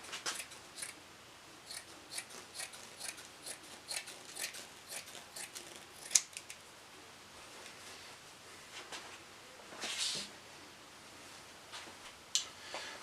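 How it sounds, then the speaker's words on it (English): Scissors cut across cushion foam in a series of close, crisp snips, some spaced and some in quick runs, with faint rustling between cuts during a painted chair build. "I'll just cut this right across with the scissors"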